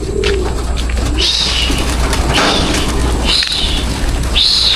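Racing pigeons coo in soft, throaty bursts over a steady low background hum, several calls spaced across a few seconds, fairly close.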